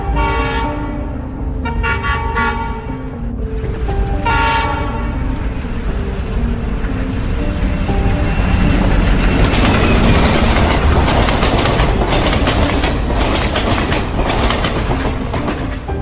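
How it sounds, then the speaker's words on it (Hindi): A cartoon train pulls into a station, sounding a loud horn in several blasts before a steady rumble and clickety-clack of wheels builds as it rolls in. "सोन को ट्रेन की आवाज सुनाई देने लग जाती है"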